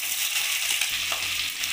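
Chopped onion frying in hot oil in a wok after ginger and garlic, a loud, close, continuous sizzle with a brief stir partway through and no voices.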